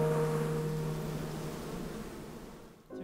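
Bees buzz steadily in a continuous droning hum that fades slightly over a few seconds before a brief dip and return, with no voices present.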